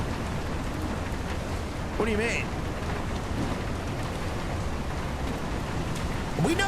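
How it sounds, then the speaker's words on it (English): Steady rain hisses across the scene in the ship simulator game Seafarer, a dense continuous wash of water noise with boat ambience beneath, while people talk briefly over it. "We have rain in America too."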